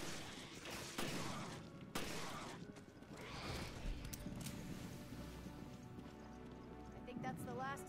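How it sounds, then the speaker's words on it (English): Pistol shots at hunters in Resident Evil Revelations ring out as several sharp, evenly spaced cracks near the start, then give way to game sounds and voices talking. "Just shooting a bunch of hunters with just a pistol."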